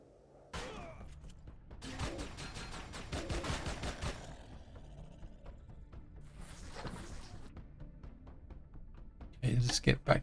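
Bursts of automatic gunfire in the sci-fi survival game Empyrion Galactic Survival, with a long rapid volley early on, a shorter burst midway and a loud cluster of shots at the end, with someone talking between bursts.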